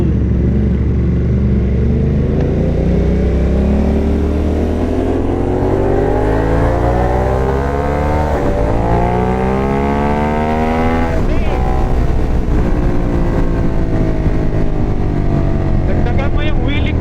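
A Ford Apache engine accelerating hard, loud and close, its pitch climbing again and again as it pulls through the gears in a sustained roar, with faint voices underneath.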